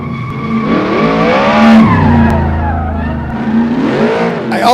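A custom-built car's engine revs hard and pulls away, a loud, close, sustained roar that rises and falls in pitch with a brief tire squeal, no voices over it.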